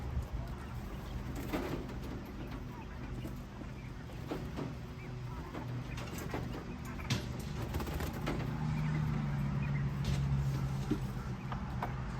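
Quail in a temporary coop make soft coos and calls amid scattered scratching and knocks, heard close and fairly faint under a steady background hum, with no talking.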